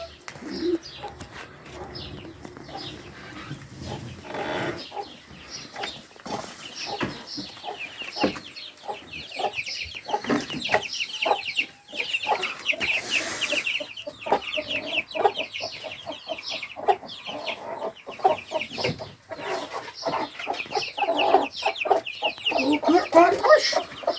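Chickens clucking and cooing continuously, close by, with busy overlapping calls and occasional voices talking in the background.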